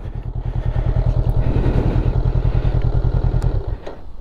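Honda CMX500 Rebel motorcycle engine idling with a steady, rapid low thumping pulse, close and loud, then cutting off near the end as the engine is switched off.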